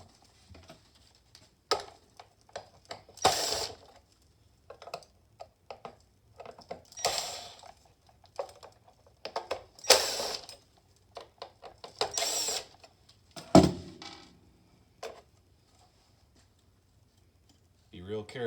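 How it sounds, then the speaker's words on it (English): Screws are removed from a connectivity board, giving scattered small clicks, ratcheting taps and brief handling rattles at close range, with quiet pauses between them. "We're going to remove those 4 screws and this cable."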